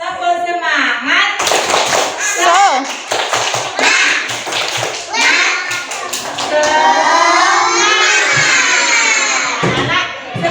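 Young children in a preschool classroom perform a rhythmic clapping class cheer, rapid hand taps and claps mixed with loud shouted and chanted voices, with an adult voice leading close by.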